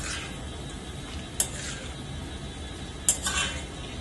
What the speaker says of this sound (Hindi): अब हम इसमें फ्राई कर लेंगे पिस्ता